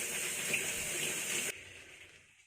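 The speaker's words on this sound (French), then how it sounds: "je rince mes gants" Gloves are rinsed under a running tap during hair dyeing, giving a steady close rush of water that cuts off sharply partway through and leaves faint room noise.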